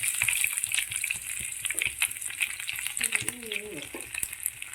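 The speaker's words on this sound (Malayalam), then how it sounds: "എണ്ണ ചൂടായി കഴിഞ്ഞപ്പോൾ വെളുത്തുള്ളി ഇട്ടേ, കറിവേപ്പില ഇട്ടു" Garlic and curry leaves drop into hot oil for a tomato chutney and crackle in a steady, close sizzle, with light stirring and a few faint tonal squeaks midway.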